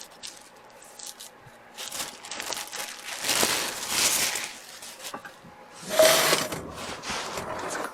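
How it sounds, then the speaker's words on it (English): Scissors snip through inexpensive synthetic potter's sponges, cutting them into quarters, with irregular crinkly cutting and rustling bursts up close, the loudest around the middle and near the end. "I just take some of our inexpensive synthetic potter's sponges and cut them into quarters"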